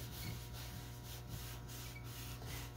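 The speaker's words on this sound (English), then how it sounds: "I'm just going to rub the wax in," Clear wax being rubbed into painted furniture with a cloth in circular motions, a soft continuous rhythmic scrubbing with gentle pulses, close and quiet with no talk.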